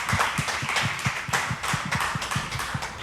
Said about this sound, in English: everybody give a round of applause for Giuliano.